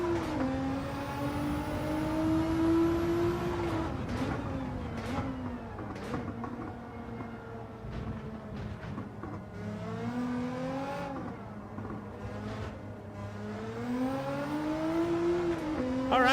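Audi R8 race car engine in a racing video game, a sustained high revving drone that climbs and drops with gear changes and corners, loud and close throughout without talk.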